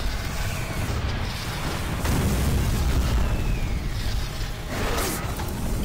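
A soul cube weapon strike in the shooter game Doom 3: a dense, roaring explosion burst that swells and rumbles loudly for several seconds, sustained and heavy, with no talking.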